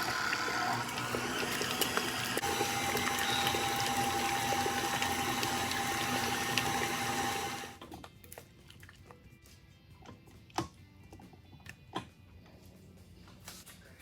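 An electric mixer creams lemon cake frosting ingredients, including fresh lemon juice, on medium speed, with a steady close whirring for about eight seconds before it switches off, leaving a quiet room with a few faint clicks.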